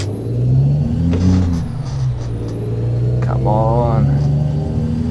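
A truck in American Truck Simulator rumbles nearby with a low engine drone, a brief air brake hiss and shifting engine tones, while someone talks over it.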